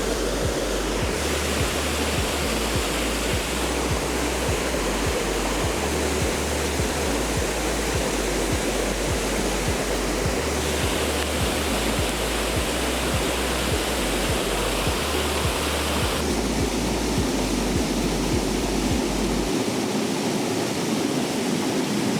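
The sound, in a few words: waterfall at Enders Falls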